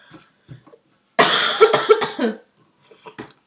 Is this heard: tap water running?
no